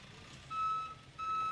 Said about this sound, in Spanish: Carros abandonados, y por eso la grúa de tránsito está operando.